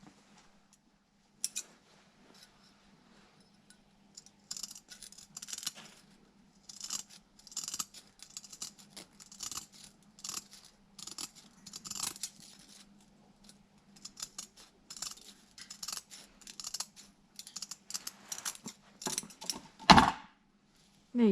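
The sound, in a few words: scissors cutting sandpaper discs for a DA sander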